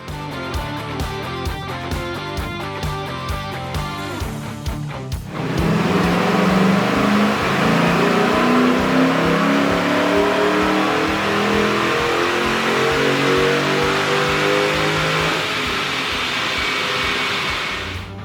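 Stock Ford Mustang on a chassis dyno: a loud, close engine chugs at a rhythmic idle, then bursts into a hard full-throttle pull, its revs climbing steadily for over ten seconds.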